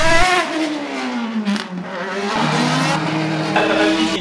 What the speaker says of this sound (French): la catégorie production est menée par la voiture numéro 32 de Robé Janssens.